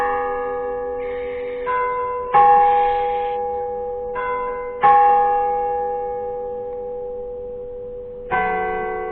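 Church bell in Freiburg striking the hour, several slow, resonant strokes a couple of seconds apart, each ringing out and fading under the next, with no other sound around them.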